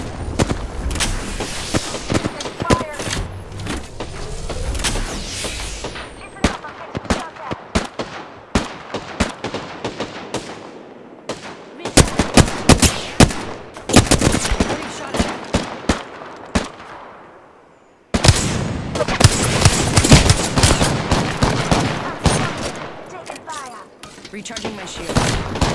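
Gunfire in the battle royale shooter Apex Legends rings out in dense rapid bursts and single shots, loud and close, with brief lulls between exchanges.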